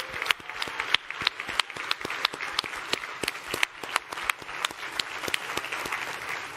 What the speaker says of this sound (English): Please give these ladies a warm round of applause.